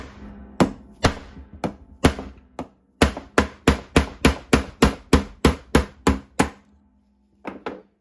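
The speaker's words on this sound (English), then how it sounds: "And just give it a couple whacks." Quarter-inch socket extensions are hammered against a part on an Ariens 1542 riding mower deck, giving a run of about twenty sharp metallic whacks, sparse at first, then quick and regular, with two final taps after a pause.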